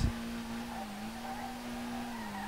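A video-game car drifts in second gear in SLRR with a damaged engine, its steady droning engine note held near the redline, continuous and close, with faint tire noise underneath.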